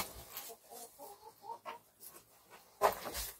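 Blue-egg-laying hens cluck softly in short, uneven bursts close by, with a sharper, louder squawk near the end.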